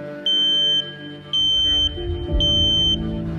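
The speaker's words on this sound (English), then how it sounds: "Here is your standard smoke alarm." Standard household smoke alarm sounding three loud, piercing high-pitched beeps, evenly spaced, with a low rumbling hum underneath.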